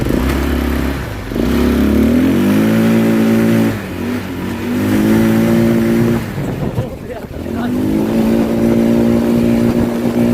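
A 150cc ATV quad bike engine revs in repeated rising pulls, close and loud, settling between bursts, while people talk over it.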